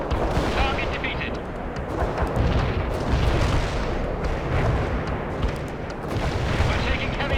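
Light artillery fire in the war strategy game World in Conflict, a constant roar of booms, blasts and gunfire rolling on without pause, with radio-style voices faintly mixed in.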